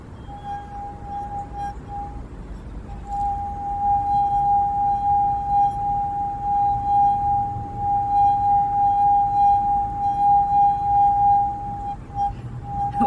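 A sustained singing tone from a wet finger circling the rim of a wine glass that is not very full, steady and clear, ringing on alone for over ten seconds.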